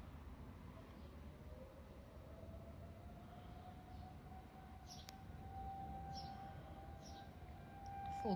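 A tornado siren runs a full outdoor test on the Fourth of July, its faint, distant wail climbing slowly and steadily in pitch for several seconds over low background rumble.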